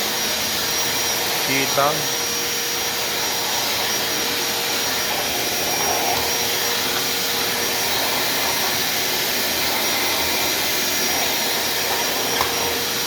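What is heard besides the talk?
Black & Decker vacuum cleaner running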